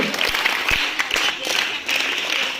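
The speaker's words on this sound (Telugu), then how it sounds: "వాళ్ళందరికీ క్లాప్స్ ఇద్దామా?" An audience at a school event claps for a children's skit, producing a burst of close, steady applause that holds throughout the short stretch.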